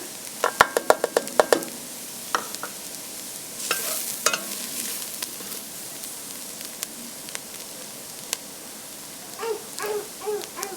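Flour being stirred into shepherd's pie soup in a pot: sharp clinks and taps of a utensil against the pot near the start, then a soft steady sizzle with scattered scrapes, and a few faint squeaky sounds toward the end.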